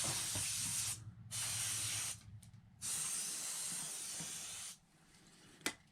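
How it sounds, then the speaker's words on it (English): Compressed air sprays in several sharp hissing bursts into an open Alienware laptop to clear dust from the fans, close and loud, each blast cut off by short pauses. "I'm gonna blow that out a little bit."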